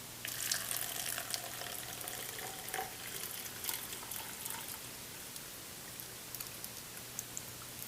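Tap water pours into a homemade water capacitor battery, a soft hissing, crackly trickle with scattered small splashes that eases off toward the end, fairly faint and without talk.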